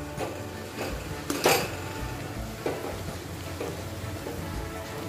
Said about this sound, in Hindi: हरा धनिया को भी अच्छा सा मिक्स कर लेना है